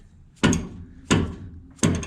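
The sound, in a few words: rubber hammer striking steering linkage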